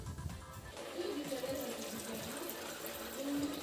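Water runs steadily into a cooking pan of batani chaat, a continuous close splashing and gurgling stream that holds for several seconds.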